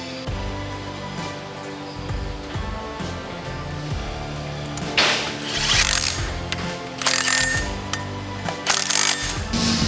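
A torque wrench ratchets on engine pulley bolts, repeated clicking strokes with metallic mechanical clatter and bursts of louder hissing noise partway through, close and busy, no speech.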